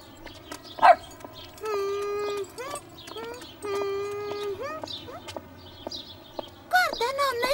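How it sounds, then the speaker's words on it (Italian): A dog in the Caillou cartoon gives short barks, yips and whimpering cries amid other cartoon sounds, with a few sharper, louder bursts. "Guarda, nonna, il cane si è seduto."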